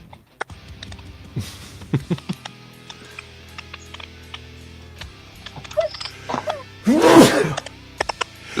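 A single loud, close sneeze bursts out near the end after a quiet stretch of faint ticks and small rustles.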